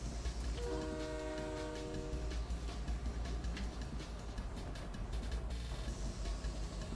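A train rumbling along in the video game Fortnite, a low continuous roar with a sustained horn blast early on and rhythmic clatter of the cars running underneath.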